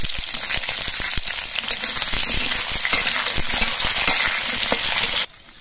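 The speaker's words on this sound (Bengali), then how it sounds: "উনুনে কড়াইয়ের মধ্যে আলুটা ভাজা হচ্ছে।" Potatoes fry in oil in a wok on a stove, making a loud, dense crackling sizzle throughout, broken by frequent stirring scrapes, before cutting off abruptly near the end.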